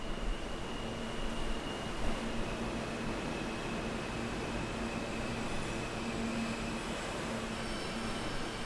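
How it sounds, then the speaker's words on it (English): A subway train entering a station makes a steady, rumbling roar with a faint high whine, continuous and fairly loud throughout, no voices. "The train entered the station"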